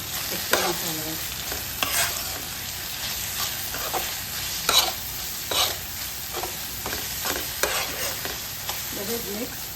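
Potatoes and okra fry in a pan as spices are stirred through them, with a soft, constant sizzle broken by repeated scraping strokes of the spoon. The sound is close, and no voices are heard.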